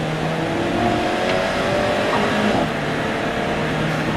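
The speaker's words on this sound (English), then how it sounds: "this little raging 4-cylinder engine behind me" Alfa Romeo 4C four-cylinder turbo engine running behind the listener, a steady deep drone with slight rises in revs, continuous and fairly loud throughout.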